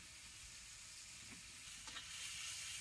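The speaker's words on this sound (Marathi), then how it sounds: "टमाटो तेलात कसं चांगलं भाजलंय बघा" Onion and tomato frying in oil in a pan for a home-style curry, a faint, even sizzle hissing steadily with a couple of soft clicks near the end.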